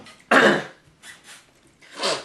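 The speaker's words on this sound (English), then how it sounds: "I'm just choking on water." Someone choking on water coughs and clears their throat, starting with one loud harsh burst, then fainter breathy coughs and another strong cough at the end, close up.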